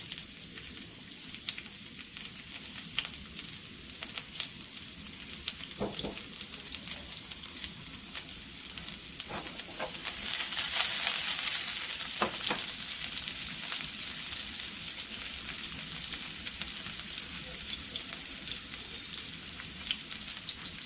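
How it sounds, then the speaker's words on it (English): Onions frying in oil in a hot pan give a steady, dense sizzle for the whole stretch, with a few sharp ticks and a brief louder hiss partway through. "begin with about a spoon of oil in a hot pan. Onions."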